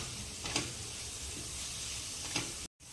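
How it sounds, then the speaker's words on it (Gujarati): Chopped vegetables sautéing in a pan for moong pulao give a steady, soft sizzle, with a couple of light stirring clicks and a brief cut to silence near the end. "હવે આ બધું થોડો કલર ચેન્જ થાય ત્યાં સુધી આપણે તેને સાંતળી લઈશું"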